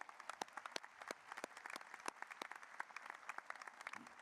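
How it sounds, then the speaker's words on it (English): An audience at a high school commencement claps in sustained applause, with sharp individual claps standing out from the crowd, steady throughout and fairly quiet as if heard from across a large hall. "Please join me in a round of applause for all their hard work on behalf of the class of 2025."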